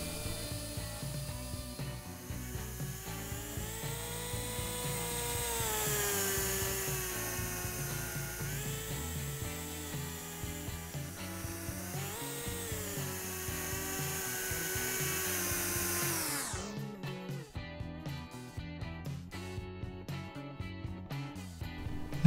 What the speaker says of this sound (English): It has a motor to pre-spin the rotor before takeoff.